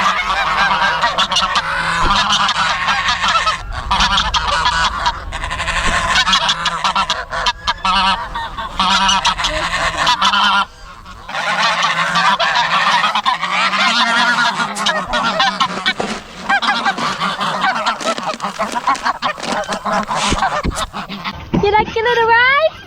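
A flock of geese on a farm honking loudly and continuously, a dense, close chorus of overlapping calls with brief lulls, and a voice speaking faintly underneath.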